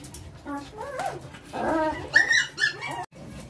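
Several dogs whimper and yip in short, high-pitched bursts as a mix of dog food and a little rice is handed out one by one at night, with a person talking nearby.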